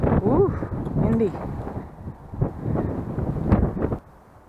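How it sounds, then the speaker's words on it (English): Wind buffets the microphone in low, rumbling gusts at a campground park in Flagstaff, Arizona while a person speaks briefly, then the blustering eases toward the end. "Ooh, windy."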